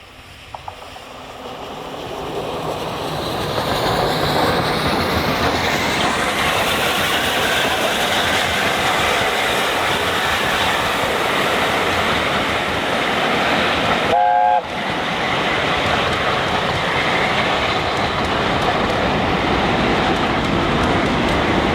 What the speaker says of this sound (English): We first see the A4 head north tender first from Pickering with 7 coaches